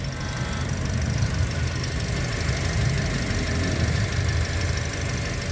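A Toyota Vios engine idles steadily after an oil change, with a low, continuous rumble and a faint knocking texture, close by and unchanging throughout.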